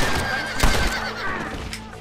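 A horse in Red Dead Redemption gives a loud, close whinny over hoof clip-clops, the neigh rising and falling for about two seconds.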